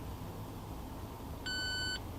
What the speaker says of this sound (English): And now it's done when you hear that second beep.